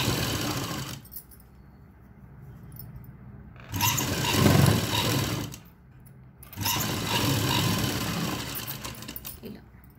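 A sewing machine stitches a blouse lining in two loud bursts of steady running, separated by short pauses with faint background hum.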